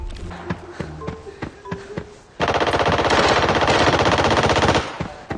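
In the Arena Breakout video game, a few scattered taps and footsteps give way to a long, loud, sustained burst of automatic gunfire that runs for several seconds before stopping abruptly.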